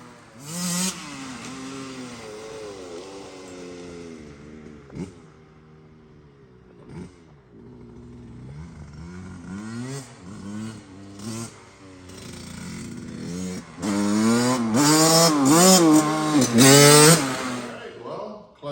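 A KTM 65 dirt bike engine runs after a clutch repair, its small two-stroke note rising and falling through repeated revs and getting louder toward the end, close by.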